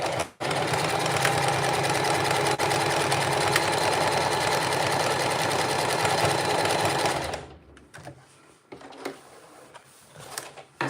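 Singer Heavy Duty 4423 sewing machine stitching in a steady, loud, fast mechanical whir that runs for about seven seconds and then stops, leaving quiet handling sounds.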